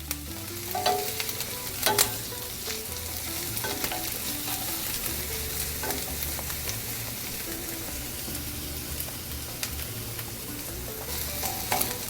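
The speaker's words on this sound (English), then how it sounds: "Now I'm gonna add my garlic. I have 1 garlic clove, finely minced. I'm gonna move it around for about 1 minute" One finely minced garlic clove sizzles steadily in a pan while a utensil stirs it, with scraping clicks and knocks scattered over the constant frying hiss and no voices.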